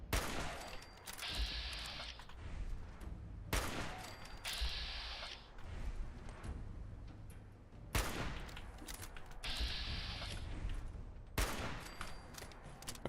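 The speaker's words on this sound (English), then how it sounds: "I keep shooting in the dark." Gunfire in Fallout 4 on Survival difficulty with permadeath: several loud, dense bursts of rapid shots break out at intervals of a few seconds, separated by quieter gaps with low rumble.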